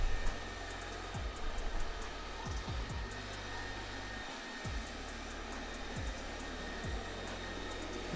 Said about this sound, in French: on appuie dessus, et voilà, le robot commence à nettoyer.